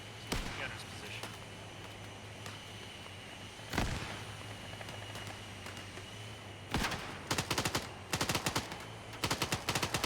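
Gunfire in the video game Arma 3, firing on troops in a forest: sharp single shots early, then several rapid bursts of automatic fire in the second half over a steady engine-like hum.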